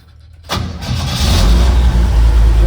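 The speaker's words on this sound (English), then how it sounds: "So I haven't fired her up for a while, so let's give her some choke." An old one-ton truck rescued from an oil field, choked after sitting unused, cranks briefly and catches, then settles into a loud, steady low rumble close by.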